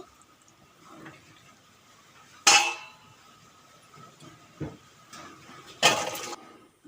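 A cooking pot of kabuli chana and soybean curry is taken off the stove, giving two sharp metallic clanks amid soft scrapes and quiet kitchen handling.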